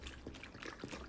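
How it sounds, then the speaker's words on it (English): Beef broth poured from a carton into a slow cooker for soup, a faint steady trickle and splash of liquid lasting about a second, heard alone. "And now I'll add the beef broth."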